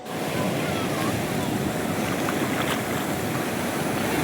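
Waves washing in at Vizag beach, a steady broad roar of surf with wind noise, close and continuous without pause.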